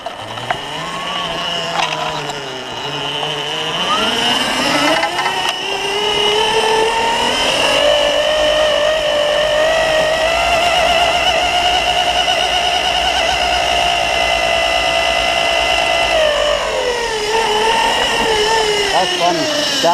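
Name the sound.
electric 4WD ATV motor running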